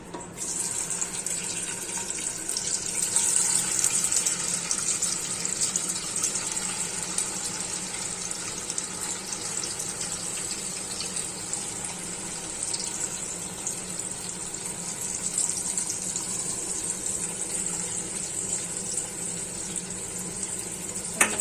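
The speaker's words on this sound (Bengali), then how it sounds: "এবার আমি পনিরগুলো ভাজবো এই তেলে দিয়ে" Paneer frying in hot oil in a kadai, a steady bright sizzle hissing continuously at close range with little change, no talk over it.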